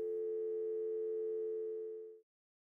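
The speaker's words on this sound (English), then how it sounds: "To test the NID-01V for correct operation, lift the handset. You should hear dial tone." A steady telephone dial tone comes through a phone on a Comtest NID-01V data jack, holding level for about two seconds before cutting off abruptly.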